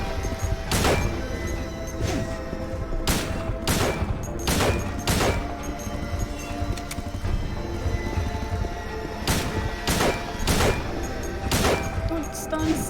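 Gunshots in the survival horror video game Silent Hill 2 on PlayStation 2, sharp loud reports fired in uneven bursts over a steady droning ambience and clanking background, close and alone with no talk.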